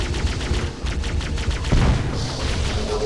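Assault rifle gunfire in Halo: Combat Evolved, a sustained rapid stream of shots over the game's background din, with a heavier burst or impact near the middle.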